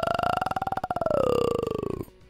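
The Groke from a Japanese cartoon dub gives a loud, pulsing, throaty growl that holds steady, then slides lower before it cuts off abruptly.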